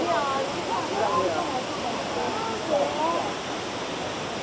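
Wulai waterfall in Taiwan gives a constant broadband roar of falling water, steady throughout, with birds chirping faintly over it.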